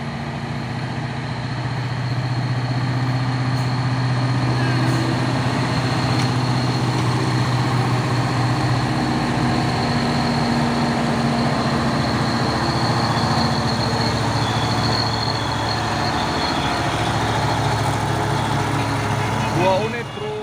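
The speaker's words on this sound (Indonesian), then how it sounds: "Ada truk Puso lagi." A Puso truck's engine drones steadily on a road, a loud continuous low rumble with a mechanical hum that holds throughout, while a voice talks over it.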